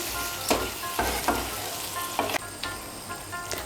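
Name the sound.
water poured into hot pan of vegetables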